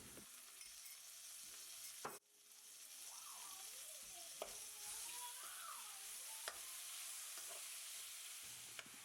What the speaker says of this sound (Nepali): अब यसमा म लसुन अदुवाको पेस्ट राख्दै छु।